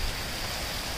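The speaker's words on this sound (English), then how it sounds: "We needed this rain so bad." Steady, dense rain pours down in a continuous hiss at a constant level, with no voices.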